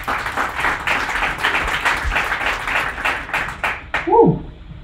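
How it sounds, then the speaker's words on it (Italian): Audience applause and clapping fill a conference hall, sustained and dense, welcoming a speaker to the stage; it fades near the end as a voice briefly speaks. "please a round of applause and welcome to Otavio for the first speech of the day"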